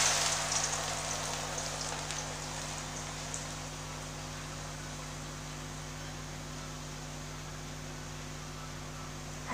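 Shredded potato strips frying in hot oil in a kadai, a steady soft crackling sizzle with a low hum running underneath, fairly even throughout.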